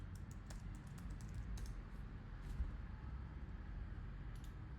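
Keys on a computer keyboard tap out a short code in quick irregular clicks, faint and close, over a steady low background hum.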